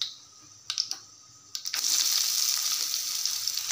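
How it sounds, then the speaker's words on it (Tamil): Onions dropped into hot oil already holding fried curry leaves: a few clicks and clatters, then a sudden loud burst of close, steady sizzling that carries on to the end. "வெங்காயத்தை பொரிச்சுக்கலாம்."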